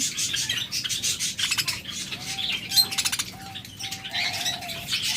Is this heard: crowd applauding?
no